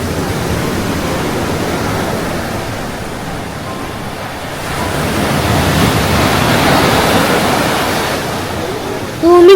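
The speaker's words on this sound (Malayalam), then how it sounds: "കടൽ കണ്ടോ?" Sea waves along the coast on a road trip from Calicut toward Goa, heard as a steady, broad wash of surf that swells slightly midway, with wind noise and no clear talk.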